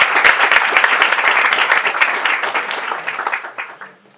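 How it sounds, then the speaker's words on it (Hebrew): Audience applause, loud and dense with many hands clapping at once, holding steady before fading out toward the end. "אני חושב שמגיע להם במחיאות כפיים."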